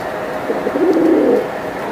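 A Pakistani chuya pigeon at a pigeon market gives a single soft, throaty coo up close, rising and fading over about a second.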